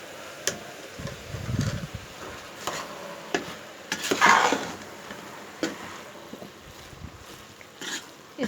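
A spoon stirs carrot halwa with milk powder in a pan, giving soft irregular scrapes and light clinks at a moderate distance, with a faint low background hum and no talking.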